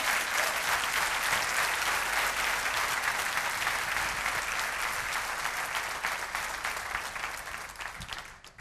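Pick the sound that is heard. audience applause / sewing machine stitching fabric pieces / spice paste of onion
audience applause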